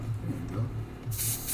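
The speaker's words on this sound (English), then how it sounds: "It works. Just like new again." Short bursts of an airbrush spraying during cleaning, ending in a loud, bright hiss of air, with some low background noise beneath.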